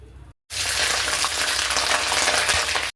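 Fish roe dropped into hot oil in a wok sets off a loud, close sizzle that starts abruptly after a brief silence and crackles steadily to the end.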